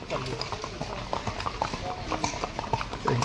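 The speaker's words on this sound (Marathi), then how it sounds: "घोडा नाही दिसत आहे राजूभाई तुमचा, लांब घ्या थोडा." Horse hooves clip-clop in a quick, uneven rhythm along a path at Matheran hill station, with people chatting nearby over the steady hoofbeats.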